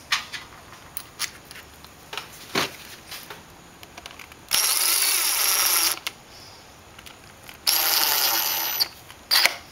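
A power screwdriver drives screws back into a carburetor in two loud bursts of whirring, set between scattered clicks and taps of handling the parts.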